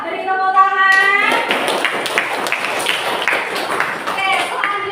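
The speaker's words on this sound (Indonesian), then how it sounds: "Ya, beri tepuk tangan." A classroom of students claps for group 2 after a lesson presentation, a dense run of sharp, close handclaps that starts just after a short spoken phrase and continues steadily, with a voice returning near the end.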